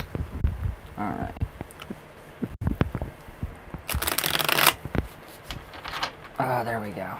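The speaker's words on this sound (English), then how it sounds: "Okay, one more good shuffle." Tarot cards are riffled and shuffled by hand in several bursts of crisp flapping, with a loud rapid riffle in the middle and another near the end, while someone talks between them.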